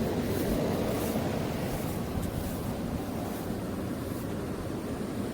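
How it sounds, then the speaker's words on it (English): Water running from a garden drip irrigation setup, a steady, dense hiss of flow that holds constant throughout with no talk over it. "I keep hearing water running and I am forgetting that I got all this drip set up"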